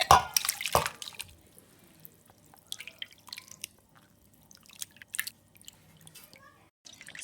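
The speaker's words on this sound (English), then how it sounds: "in lukewarm water, we're going to add our chicken pieces" Chicken pieces washed by hand in a bowl of lukewarm water: a loud splash and slosh at the start, then scattered drips, squelches and small splashes, close by with no talking.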